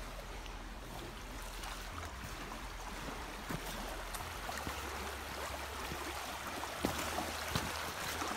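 Water of the Robert River flows steadily beneath an old pipe footbridge in Blackburn, a continuous close rushing wash with no speech over it.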